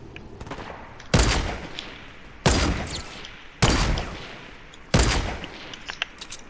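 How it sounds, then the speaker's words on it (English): Four loud, sharp gunshot bursts in the video game Fortnite, spaced a little over a second apart, each cracking sharply and then decaying, with quieter game ambience between them. "Why y'all shooting?"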